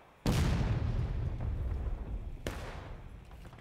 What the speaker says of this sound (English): it's 1st VACAB and Rebel Second Corps engaging with fire!